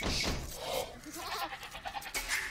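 Sheep bleat in Age of Empires II, a few short nasal calls that stand out against the game's background sounds, with no talk over them.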